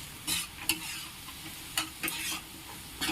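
Carrot halwa being stirred in a pan with cashews, raisins and cardamom powder, a soft sizzle with a few sharp scraping strokes of the spoon, close by and with no talking.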